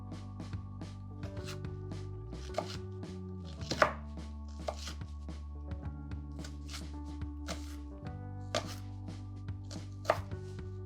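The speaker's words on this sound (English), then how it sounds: "So you want to take part of the leek, then we're just going to cut a piece right here, cut it in half." A knife on a cutting board chops a leek into thin julienne strips, giving steady, quick, close taps with a few sharper knocks, heard clearly with no talking.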